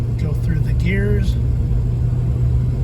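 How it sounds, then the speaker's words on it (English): A 2006 Toyota Tundra's engine labors to accelerate uphill, giving a low, steady rumbling drone from inside the cab, with a voice speaking briefly over it. "it's having an extremely difficult time accelerating"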